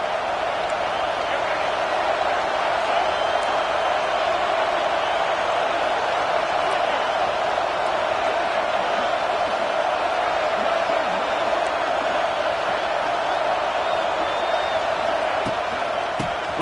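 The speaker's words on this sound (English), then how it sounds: "This crowd knows when to bring it." A packed LSU football stadium crowd keeps up a loud, steady roar for the whole stretch, with no lulls, under an announcer's commentary.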